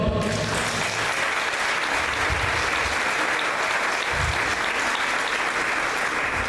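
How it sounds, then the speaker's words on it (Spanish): A church congregation breaks into loud, sustained applause, a thick continuous wash of many hands clapping that fills the room throughout, with faint voices buried beneath. "Dale un aplauso al Señor"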